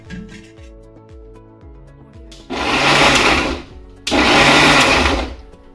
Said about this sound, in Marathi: आपण आता मिक्सर मध्ये ही चटणी वाटून घेणार आहोत